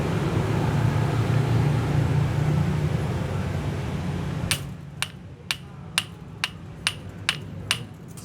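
Hammer blows sealing a refrigerator's freon charging pipe: about eight sharp, evenly spaced metallic taps ring out close by after a stretch of steady broadband noise.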